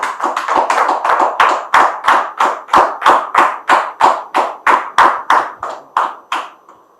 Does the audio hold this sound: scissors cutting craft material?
no